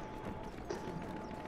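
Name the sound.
horse hooves clip-clopping in League of Legends video game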